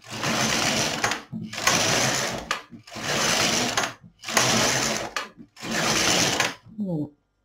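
An LK 150 knitting machine carriage makes five rhythmic passes, each a steady whirring rasp about a second long separated by brief gaps, followed by a few faint clicks.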